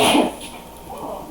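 A single short sneeze bursts out at the very start, sharp and close, followed by quieter breathy sounds and muffled room noise.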